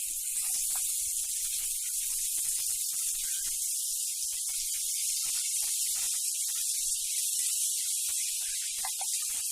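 Kunukku dough pieces fry in hot oil for Navarathri, giving a steady, loud bubbling sizzle that runs the whole time with no break.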